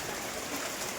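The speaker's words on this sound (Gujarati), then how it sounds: "હમણાં જ વરસાદની વાત કરીને વરી પાછો વરસાદ સ્ટાર્ટ થઈ ગયો છે." Monsoon rain in Kutch pouring down steadily, a broad, even hiss of water on surfaces, close and unbroken, with no voices.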